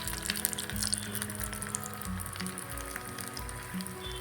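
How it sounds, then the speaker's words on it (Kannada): Potato cheese balls fry in oil over a medium flame, a faint, steady crackling sizzle with scattered small pops continuing throughout. "ಇವಾಗ ಕ್ಲೀನಾಗಿ ಫ್ರೈ ಆಗ್ತಾ ಇದೆ."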